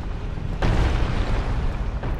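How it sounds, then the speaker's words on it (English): A rolling boulder from a trap in the game Dark Souls fires out with a heavy deep rumbling boom and keeps rolling in a sustained low roar, with a second thud near the end. "I'm going to reset this boulder trap so it's shooting out in the way"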